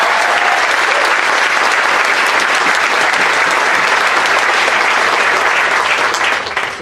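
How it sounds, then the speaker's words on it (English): A banquet audience applauds a high school football team that reached the district finals, steady loud clapping filling the room without pause before easing off at the very end. "let's give them a round of applause"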